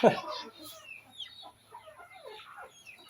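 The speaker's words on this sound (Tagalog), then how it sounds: "May mga manok." Scattered soft clucks and short bird calls from chickens, fairly faint and irregular, with a louder burst at the very start.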